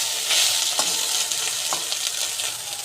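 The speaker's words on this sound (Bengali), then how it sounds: "চলো ভাতটাকে ভেজে নিই।" Rice with carrot is stir-fried in a pan, giving a continuous close sizzle broken by a few sharp scrapes and taps of the spatula.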